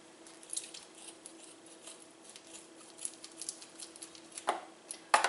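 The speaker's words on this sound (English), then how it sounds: "So scissor, cut the end of that." Scissors snip open the end of a plastic ground turkey package in a kitchen, a few faint, quick clicks and crinkles with a sharper cut near the end, quiet and close.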